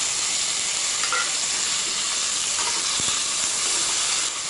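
Onions and tomatoes sauté in a hot pan for sambar rice, giving off a steady bright sizzle and hiss that stays loud and close throughout, with faint stirring scrapes and no talking.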